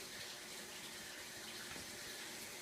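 Water being siphoned out of a home aquarium and running into a sink, a steady continuous trickle and rush that holds even throughout, fairly close and alone with no voices.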